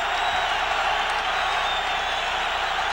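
Large outdoor football stadium crowd at a 1996 Raiders home game against the Chiefs, a steady dense roar of massed voices with a faint whistle-like tone, continuous and loud throughout with no distinct claps.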